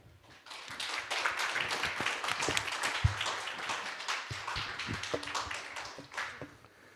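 An audience at a youth forum closing ceremony applauds panel 1, a swell of many hands clapping that builds quickly, holds steady for several seconds, then thins out into scattered claps.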